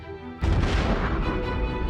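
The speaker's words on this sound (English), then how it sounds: "They die in some of the most violent explosions ever to rock the universe." A supernova explosion sound effect: a sudden deep boom hits after a quiet moment, then rolls on as a loud, wide rumbling roar that stays heavy to the end.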